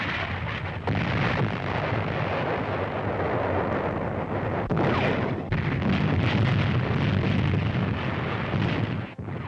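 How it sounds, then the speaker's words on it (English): American artillery fire and shell explosions from a 1943 North Africa war film, heard as a dense, continuous roar of booms and rumbling blasts that carries on loudly and steadily throughout, with no talk over it. "American artillery finds targets with an accuracy that astounds the Germans."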